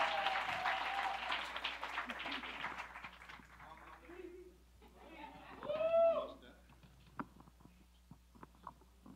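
An audience at a screening event gives dense, crackling applause that fades after a few seconds, followed by scattered voices and a few isolated claps in a quiet room.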